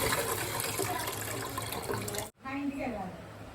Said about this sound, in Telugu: ఈ వాష్ చేసిన వాటర్ని వేరే గిన్నెలోకి డ్రైన్ చేసేసుకుందాం.